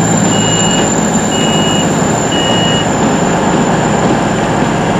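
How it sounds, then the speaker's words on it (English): A South Western Railway Class 159 diesel train arrives from London Waterloo into a station on the Dartmoor Line, a loud steady engine drone with a constant high whine and short faint tones over it. "a terminating South Western Railway Class 159 terminating in from London Waterloo"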